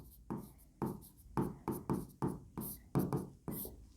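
Chalk or a marker writes on a board during a chemistry lecture, a series of close, distinct taps and short scratchy strokes in an irregular rhythm, with no voice over them.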